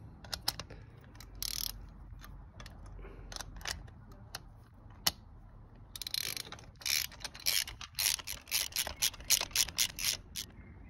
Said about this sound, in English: so we'll put the wrench back on.